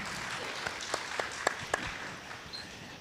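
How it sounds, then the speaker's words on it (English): Moderate audience applause for film director Raju Hirani, steady clapping with a few louder individual claps standing out, lasting about three seconds. "Big round of applause for Raju"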